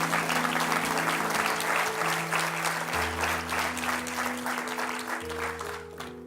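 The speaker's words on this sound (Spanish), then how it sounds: "dele un aplauso al Señor en esta noche" A church congregation applauds during an evening service, a steady, dense wash of clapping over sustained organ or keyboard chords that carries on throughout.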